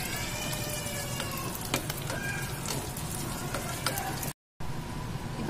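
Small shallots and a chili frying in a pan for a Kerala-style jackfruit kootu, a faint continuous crackling sizzle with scattered pops, quiet and steady with no talk.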